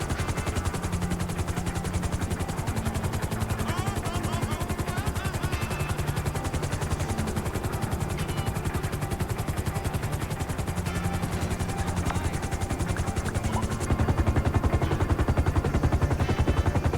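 A helicopter in the video game GTA V gives off a fast, steady rotor chop with a constant engine drone. It stays loud and close throughout and grows a little louder near the end, with no voices.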